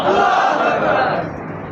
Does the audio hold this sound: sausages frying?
no